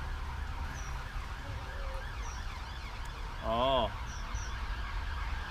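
A single short rooster crow rings out near the middle, a harmonic rising-falling call over steady background noise, briefly preceded by a spoken exclamation.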